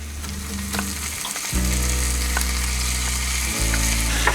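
Garlic cloves fry in a pan for shakshouka, a steady close sizzle that swells louder partway through and holds alone with no talking.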